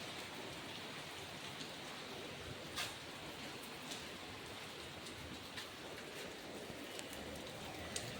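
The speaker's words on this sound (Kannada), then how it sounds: "ಮಳೆ ಹೆಂಗೆ ಹೊಂಟದ ಎಷ್ಟು ಜೋರ್ಸಿ ನೋಡಮ್ರಿ" Heavy rain pouring steadily in Delhi, a dense, even wash of drops hitting surfaces with a few sharper splashes, constant and moderately faint throughout.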